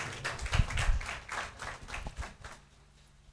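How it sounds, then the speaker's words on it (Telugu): A church congregation claps in a short, uneven burst that fades out after a few seconds, fairly faint and with some distance. "గట్టిగా చప్పట్లు కొడదాం"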